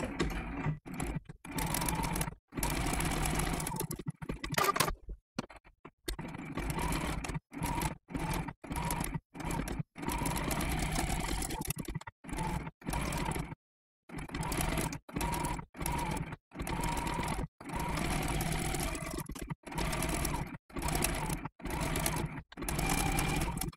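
A sewing machine stitching a blanket stitch around a raw-edge appliqué with brown thread, its loud, close, steady whirring running in repeated bursts separated by brief pauses as the fabric is turned, with no talking.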